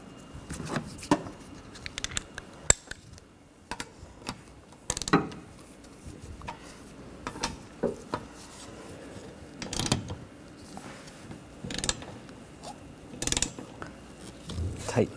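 A ratchet tightening the nuts on the wiper arms of a 2013–2019 Ford Escape: close, crisp clicking in short, irregular bursts with brief pauses between them, and some faint handling noise.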